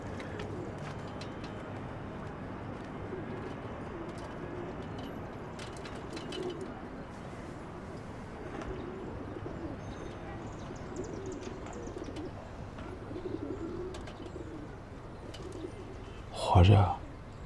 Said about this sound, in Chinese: 围绕着我的是比我还勤劳的鸽子